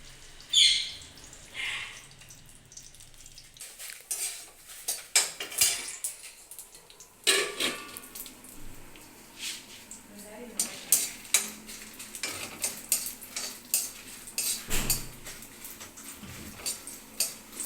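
Chillies are stirred and roasted in a pan for Kanchipuram idli, with scattered metal scraping and clinks of a utensil against the pan and soft frying noise between quiet gaps.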